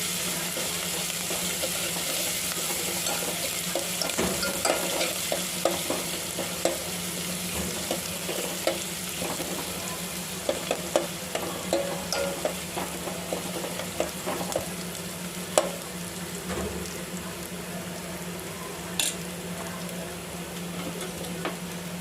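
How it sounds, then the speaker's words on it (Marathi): Ground masala fries in a pan while a spoon stirs it, a steady sizzle broken by scattered scraping clicks, close and continuous with no voices, as a traditional Maharashtrian ghevda curry is cooked. "आपल्याला हलवून घ्यायचं आहे।"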